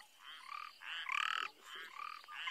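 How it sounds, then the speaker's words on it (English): A sharp-nosed grass frog calls from among the grass during a sunrise safari, giving repeated bursts of buzzy, rasping croaks in a steady series, fairly close and alone. "Sounded quite like a sharp-nosed grass frog, but he's now stopped calling because he knows we're listening to him."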